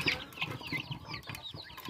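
Several chickens cluck and squawk nearby in a backyard vegetable garden, in short irregular bursts of calls over a low rumble of movement and background noise.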